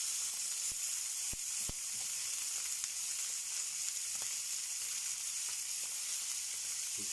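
Rump steak sears in vegetable oil in a hot pan, giving a continuous bright sizzle and hiss with a few sharp crackles and pops near the start.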